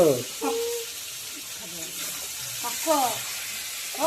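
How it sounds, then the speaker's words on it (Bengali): Meat frying with spices in a pot, a steady broadband sizzle running throughout under intermittent speech nearby. "মাংস মাংস অন্ধকারে মাংস রান্না হচ্ছে"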